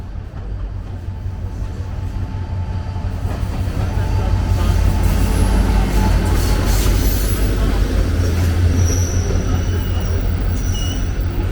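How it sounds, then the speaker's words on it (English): The single daily passenger train leaving Pristina Central Station in Kosovo, heading west: a steady, loud rolling rumble that builds after a few seconds, with faint wheel squeals and creaks high above it, heard close from on board. "Here she is, the morning train, and today's only departure out of Pristina Central Station"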